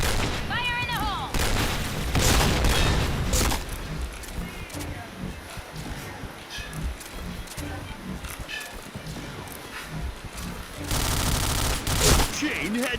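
Grenade blast and rapid gunfire from the PointBlank shooter game, with bursts of shots, booming explosions and a loud blast near the end, heard under players talking.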